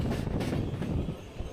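An SJ Nord overnight sleeper train pulls into Trondheim Central Station, a low, steady rumble of rolling carriages heard from on board, with faint wheel noise and no talk.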